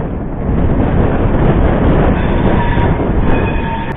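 Lichchavi Express rolls into platform 1 of a station off a loop line, giving a steady, loud, close rumble of wheels and carriages with faint squeals near the end and no voices.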